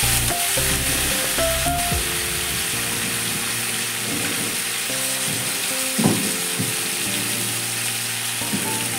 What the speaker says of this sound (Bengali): আর একটু নুন দিয়ে ভালো করে ভেজে নেব